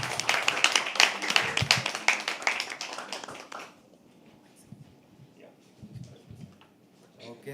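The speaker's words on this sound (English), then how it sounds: "Keep clapping till he comes on stage, guys." At a live poetry open mic, an audience claps briskly and densely for a few seconds before the clapping stops abruptly, leaving quiet room noise with faint scattered sounds and murmurs.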